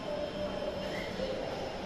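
A Dhaka Metro Rail train at a station, heard as a steady rumbling drone with a faint tonal whine, continuous and moderately loud throughout the short stretch.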